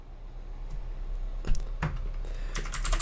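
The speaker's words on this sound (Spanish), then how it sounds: "A ver qué tal se oye el teclado." Typing on a desk computer keyboard close to a microphone, a few soft clicks and a brief cluster of sharper keystrokes over a steady low hum.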